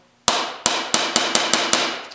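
Hammer tapping the sheet metal of a motorcycle fender being shaped by hand, seven sharp metallic strikes at a slow, steady pace, close and loud, each ringing briefly before the next.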